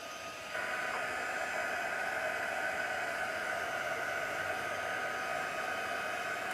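A hair dryer runs steadily at close range over wet alcohol ink puddles on an art journal page, switching on with a click and holding a constant airy whoosh with a tonal hum throughout.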